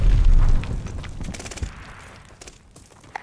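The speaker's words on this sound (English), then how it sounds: "Enemy's got a glide bomb." A glide bomb explodes in Call of Duty: Vanguard multiplayer, a heavy booming blast at the start that fades into a rumbling tail, followed by scattered faint pops and gunfire.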